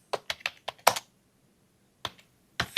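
Keystrokes on a computer keyboard while entering text into an Excel spreadsheet, a quick burst of about six close clicks, a pause, then two more taps, with no talking.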